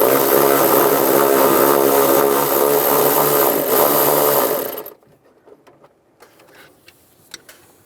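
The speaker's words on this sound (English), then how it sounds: "Using a 10mm socket. Take this nut off." A power tool with a 10mm socket spins a nut off the accumulator band bracket on a 2007-2013 Chevy Silverado, a loud steady whir for about five seconds that stops abruptly, followed by faint clicks and handling noises.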